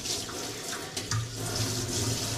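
Tap water runs steadily during a bath, a continuous close rushing and splashing spread over the whole stretch with no voices.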